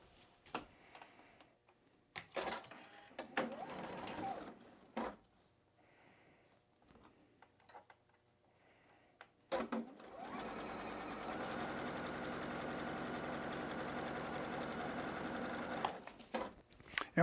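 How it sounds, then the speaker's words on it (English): A sewing machine stitches pairs of fabric squares together with triangle edges matched for quilt block rows, starting in short bursts, then running in a long steady whir, close and clear, with no talking. "You're just going to take 2 by 2 and stitch them together"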